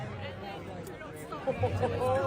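Stadium crowd chatter at Suncorp Stadium, a dense steady babble of many voices with a swelling rise near the end, heard from within the stands.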